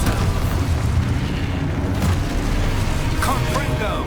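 A magical explosion spell in the Hogwarts Legacy video game booms loudly, a sustained rumbling blast with crackling debris and brief sharp sounds near the end, no speech.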